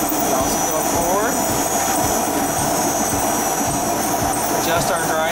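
An ASL RT3 ride-on concrete grinder driving forward, a loud steady motor whine and roar held throughout with a high tonal hum, close by, with speech-like sounds mixed in.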